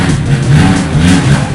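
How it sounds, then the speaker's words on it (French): A scooter engine revs steadily in the background, its low, droning whine rising and falling throughout without a break. "désolé pour le bruit du scooter derrière"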